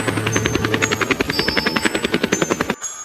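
A cartoon helicopter flies along, its rotor beating in a steady rapid chop with bright high tones over it, loud and close, cutting off abruptly near the end.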